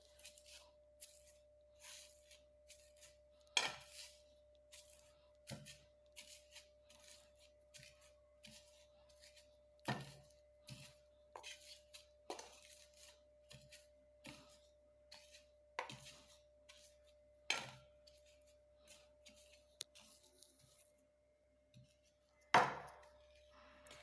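A pestle pounds ingredients to powder in a household mortar, the kind used for crushing ginger and garlic, giving sharp, irregular knocks, some louder than others, over a quiet background hum.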